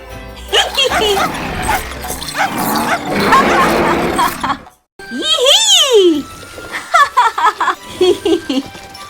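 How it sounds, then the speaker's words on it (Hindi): Cartoon dog barking in a Hindi-dubbed animated Christmas show, several short yips and bow-wows between lively character voices, giggles and a swooping sound effect. "छी, टॉर्च बदमाश कुत्ता।"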